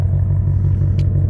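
A deep, steady engine rumble from a 2021 Ford Mustang Shelby GT500 idles close by, low and throbbing with a slight pulsing rhythm, no voices.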